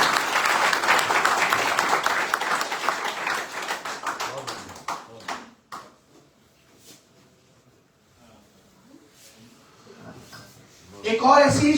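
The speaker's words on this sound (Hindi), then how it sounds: "एक बार जो तालियां बजाएंगे।" Audience applause at an IMC business celebration program in Ludhiana, Punjab: loud, dense clapping for about five seconds, then it dies away to near quiet, with a brief burst of noise at the very end.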